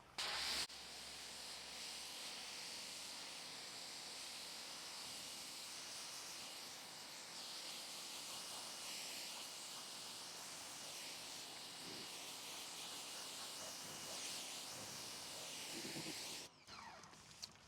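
Pressure-washer spray rinsing Chemical Guys Black Light car wash soap off a black Jeep, a loud continuous hissing spray that holds steady for most of the time before cutting off briefly near the end.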